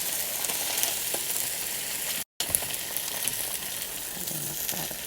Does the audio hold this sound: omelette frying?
yes